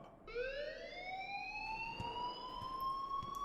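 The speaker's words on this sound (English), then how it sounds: "please turn off that alarm since that's your job" A rising wailing alarm rings in a video game, with a steady electronic tone sweeping upward and holding, continuous and moderately loud, with faint clicks underneath.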